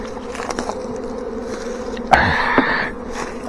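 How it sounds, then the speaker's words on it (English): A big swarm of honey bees buzzes close at a trap box, a steady dense hum with a louder burst of wingbeats partway through. "That's a big ball of bees"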